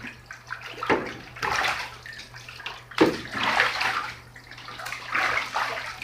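A pet goose bathes and splashes in a tub of water, giving continuous close sloshing and splashing with repeated bursts and no talk.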